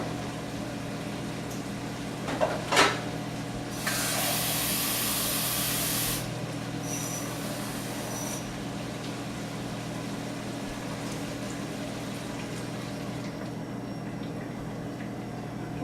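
Water poured into a hot frying pan of rice hisses loudly in a steady spray of steam for a few seconds, with a couple of clanks before it and a low boiling simmer afterward.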